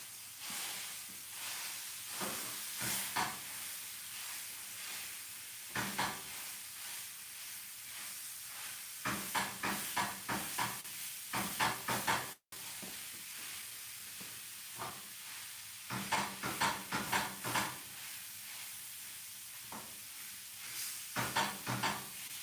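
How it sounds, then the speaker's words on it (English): Ground beef browning in a pan for taco salad, with a quiet steady sizzle under repeated scraping and chopping strokes as a meat-breaking tool works through it, sounding in clusters with brief pauses. "browning ground beef is pretty simple"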